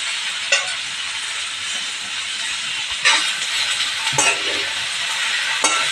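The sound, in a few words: sautéing besan-coated okra in oil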